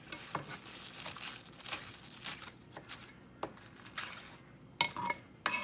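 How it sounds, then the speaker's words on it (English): Spinach is roughly chopped on a cutting board in a home kitchen, giving soft, irregular knife taps and patters, then a few sharper clinks near the end, moderately close with no speech. "give it a little bit of a rough chop"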